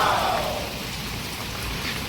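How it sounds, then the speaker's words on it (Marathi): Heavy rain falling outdoors, a steady broadband wash of drops hitting surfaces, fairly loud and continuous throughout with no voices. "बापरे, भरपूर पाऊस."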